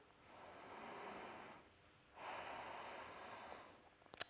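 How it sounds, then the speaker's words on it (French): Deep breathing during a yoga forward bend: two long, soft, airy breaths, each lasting over a second, with a quiet pause between them and a few faint clicks at the end. No voices. "Plusieurs respirations dans la posture."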